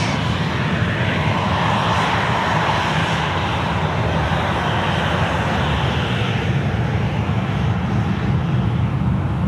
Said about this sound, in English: the Qantas A380 is vacating down there at Foxtrot